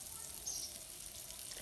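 Oil hits a hot pan for a Bengali fish curry with greens, giving a soft, steady hiss that stays faint and even over a short moment.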